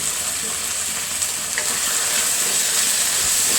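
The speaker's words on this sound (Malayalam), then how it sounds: "നന്നായിട്ട് ഇളക്കുക" Dragon chicken sauce with red chilli and tomato sauce sizzles in a frying pan while being stirred, giving a loud, continuous close-up hiss and crackle with faint scraping and no voices.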